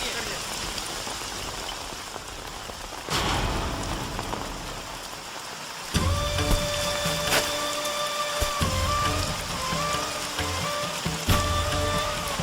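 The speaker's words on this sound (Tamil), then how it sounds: "ஏய் மழை வந்துருச்சு." Rain falls in a dramatic scene from a Tamil film, a steady hiss of drops on surfaces that grows louder partway through, mixed with music and the urgent voices of villagers.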